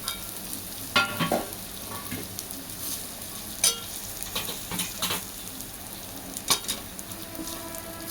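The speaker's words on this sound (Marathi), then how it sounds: "आपण शेवया पण टाकून घेणार आहोत. तुपामध्ये भाजणार आहोत." Vermicelli roasting in ghee in a pan for sheer khurma gives a steady close sizzle with occasional scraping stirs and utensil taps, no talking.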